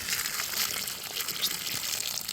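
Water poured onto potted plants during the rainy season makes a continuous close splashing gush, fairly soft and unbroken, with no talking.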